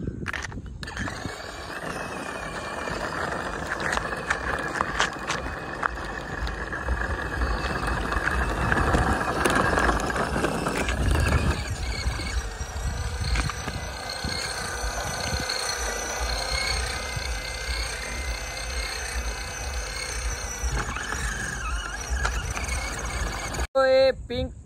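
A pink remote-control toy bike runs forward with its lever taped down. Its small motor gives a continuous whirring whine under someone talking nearby.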